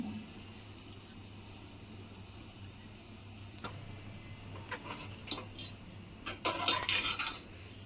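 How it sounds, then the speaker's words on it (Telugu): Fried chicken keema balls dropped into curry gravy and stirred in a pan, giving scattered soft clinks and scrapes of a spoon against the metal, growing busier and louder near the end, with no talking. "ఇప్పుడు ఈ గ్రేవీలో ముందుగా ఫ్రై చేసుకున్న చికెన్ కీమా బాల్స్ని అయితే వేసేసుకుందాము."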